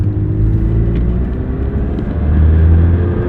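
A Rolls-Royce engine hums in a low, steady rumble from inside the cabin as the car shifts up to third gear, the drone dipping and then swelling again with no talk.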